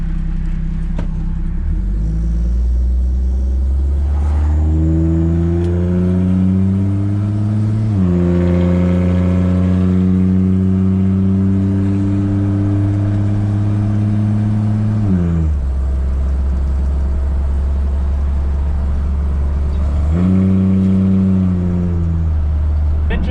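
A Chevrolet Squarebody truck fitted with a Flowmaster muffler, with an intake leak, drones steadily up close, its exhaust note rising and falling through several long revs and shifts, with no talk over it.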